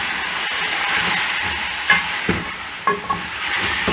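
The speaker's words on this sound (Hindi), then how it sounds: "अब इसकी अच्छी तरह बुनाई करनी है।" Goat trotters (paaye) bhuna-fried in a pot while being stirred, a steady close sizzle and hiss running throughout with a few scraping clinks of the spoon against the pan.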